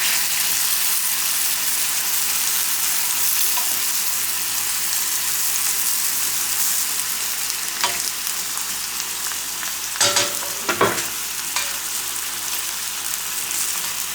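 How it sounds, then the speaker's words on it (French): Cod fish frying in a pan, a constant loud hiss of sizzling oil that runs through the whole stretch, broken late by a few brief sharp clicks and scrapes. "Juste je fais cuire mon poisson comme ça"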